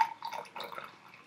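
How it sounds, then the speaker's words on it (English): Liquid poured in a thin trickle during a concrete mushroom dyeing experiment, soft uneven splashes and drips close by, fairly quiet, with no talking. "Just gonna pour this liquid."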